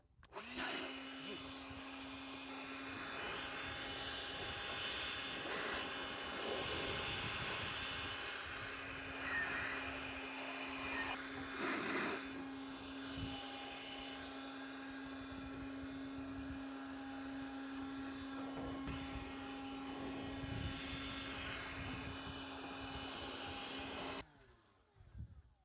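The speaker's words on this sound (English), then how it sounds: "let's try this Ryobi battery powered leaf blower" A Ryobi battery-powered leaf blower blasting air through the outdoor coils of a Mr Cool 24K BTU mini split air conditioner, a loud steady whooshing roar with a constant whine that runs unbroken for about 24 seconds before cutting off.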